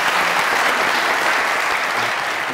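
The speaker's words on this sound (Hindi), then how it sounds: "सर के लिए तालियां बजाएं" Loud, sustained applause from a comedy show audience, dense clapping that holds steady throughout.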